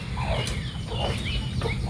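A chicken clucking close by, several short clucks and squawks over a steady background hum.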